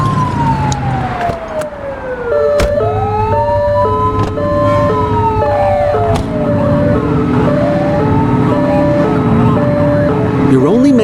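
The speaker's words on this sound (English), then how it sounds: "You're only meant to use the siren in emergencies." A police car siren wailing and yelping in varied patterns, loud and close, over engine rumble and traffic noise, with sharp clicks between modes.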